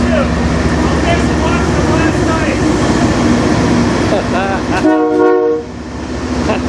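A passing freight train in Sarnia, Ontario sounds a long, loud horn over the steady roar of its engines and rolling cars, with a short blast near the end, heard up close under some background voices.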